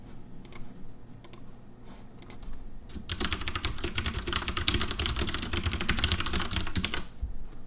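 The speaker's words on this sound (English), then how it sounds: "now let's type a random phrase" Someone types on a Leopold tenkeyless keyboard with Cherry MX Brown switches. Sparse keystrokes turn into a steady, dense burst of close, crisp key clacks that lasts about four seconds and then stops.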